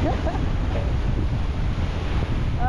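Continuous rushing surf with heavy wind buffeting the microphone, a loud, unbroken wash of strong ocean waves off Mindanao and no voices.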